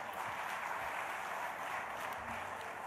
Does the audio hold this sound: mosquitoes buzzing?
no